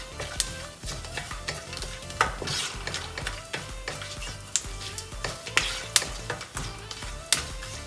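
Whole spices, cinnamon sticks, big and green cardamom and mace, sauté in a pan with a bright crackling sizzle, broken by frequent sharp clinks and scrapes of a spoon against the metal throughout.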